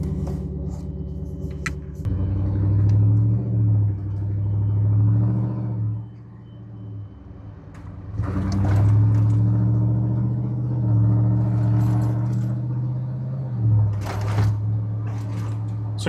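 A vehicle with Nilight offroad lights fitted, driving on the road, heard from inside as a steady low engine drone that rises and falls with acceleration, with a lull midway.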